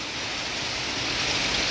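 Heavy monsoon rain pours steadily outside a house as floodwater fills the street, a dense, constant hiss that stays loud and unbroken throughout.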